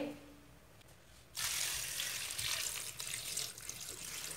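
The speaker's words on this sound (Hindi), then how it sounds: "सारे साग को मैंने काट लिए इसको अच्छी तरह धो लेंगे" Running tap water gushes over freshly chopped saag greens in a sink, starting abruptly after a quiet moment and continuing as a steady close splashing rush.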